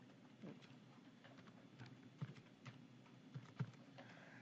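Typing of coordinates on a computer keyboard while graphing points in Desmos: faint, scattered key clicks in a quiet room, with a few slightly sharper taps standing out near the end.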